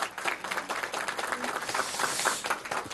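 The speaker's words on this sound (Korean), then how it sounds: "박수 한번 좀 보내주세요" An audience at a firefighters' forum gives a short round of applause, dense and steady, close and moderately loud.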